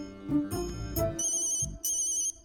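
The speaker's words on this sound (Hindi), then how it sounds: "फोन की घंटी यहां क्यों बज रही है?" A phone ringtone sounds in a dubbed horror thriller film scene, a clear electronic melody with bright repeating ringing tones over about two seconds, no talk over it.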